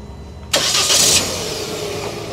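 A Proton Saga VVT car engine cranks and catches with a sharp burst, then settles into a steady, close idle, heard alone.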